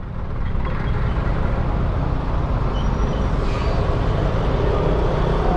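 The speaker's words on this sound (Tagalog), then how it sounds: "Oh, daming truck ah." Heavy road traffic at night on the way to Alaminos, Laguna, with trucks rumbling past in a steady, loud, continuous low roar of engines and tires.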